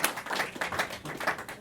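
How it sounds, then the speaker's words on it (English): Brief, fairly faint clapping from a small audience at a New York tech meetup at Civic Hall, scattered hand claps pulsing for under two seconds. "big round of applause for"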